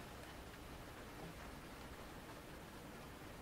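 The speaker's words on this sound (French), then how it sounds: "il pleut à seau là d'un seul coup" Sudden heavy rain pouring down, a dense, even hiss of falling water that fills the whole moment, steady and quite faint, with no voices.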